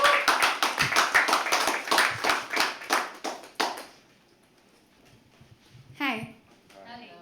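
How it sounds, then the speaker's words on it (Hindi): Audience applause at a live poetry open mic, a burst of clapping that fills the room for about four seconds before dying away, with a brief voice and scattered noise afterward. "काजल के लिए एक बार जोरदार ताली जब तक वो मंच पर ना आ जाएंगे"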